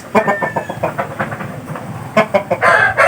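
Japanese Shamo chickens clucking and crowing in a run of short, choppy calls, fairly close, over steady outdoor background noise at a breeder's farm.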